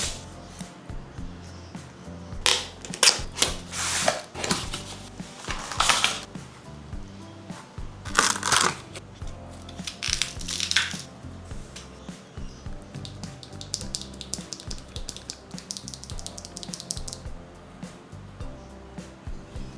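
Bursts of rapid typing on an Akko Bittersweet tactile mechanical keyboard with deep thocky switches, clusters of keystrokes alternating with brief pauses over low background noise, close and moderately loud.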